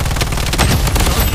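Loud, dense gunfire from the online shooter game Project Bloodstrike in ranked solo play, a sustained fusillade of rapid shots filling the whole moment.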